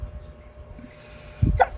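A single sharp, explosive sneeze-like burst from a child, close and loud, after a quiet stretch of low background noise.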